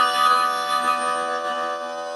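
Harmonica played through a Silverfish bullet microphone cupped firmly in the hands, a dense, buzzy sustained chord with a compressed vintage character, heard close and alone for about two seconds.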